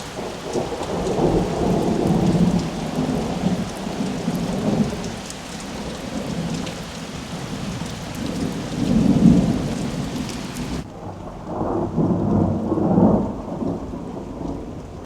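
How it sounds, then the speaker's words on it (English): A summer thunderstorm at night, with steady heavy rain falling on surfaces and rolling thunder that swells and fades several times, loud and close, with no voices. "The lights are off and we are just watching the storm."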